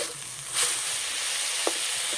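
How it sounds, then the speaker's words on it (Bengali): Amaranth greens (note shak) frying in oil in a wok, a close, steady hissing sizzle with a faint clink or two of stirring, no voices. "শাক ভাজা ভাজা হয়ে গেছে"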